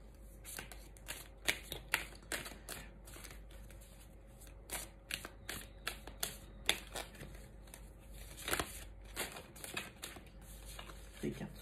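Tarot-style cards being shuffled by hand during a card reading: repeated crisp riffling bursts, close and fairly quiet, with pauses between them.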